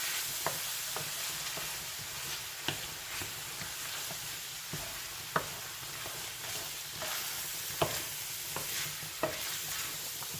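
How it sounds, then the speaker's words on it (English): Flour cooks in a pan for an Irish shepherd's pie, with a soft, steady sizzle and irregular light taps and scrapes from a spoon stirring close by. "let's get this flour in here. We'll cook that for a little bit."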